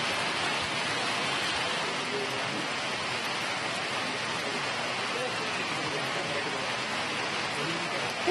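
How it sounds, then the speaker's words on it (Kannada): Heavy rainfall in Bangalore, a steady dense wash of rain that stays even and unbroken from start to finish, with no distinct drops standing out. "ಇವತ್ತು ಧಾರಾಕಾರ ಮಳೆಯಿಂದಾಗಿ ಸಾಕಷ್ಟು ಅವಾಂತರಗಳಾಗಿದೆ ಬೆಂಗಳೂರಲ್ಲಿ"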